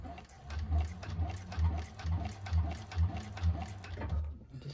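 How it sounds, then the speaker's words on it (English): A 1341 cylinder arm sewing machine stitches a bag up close, its motor whirring in a steady run of rhythmic, evenly spaced pulses that stop abruptly near the end. "Just sew that down."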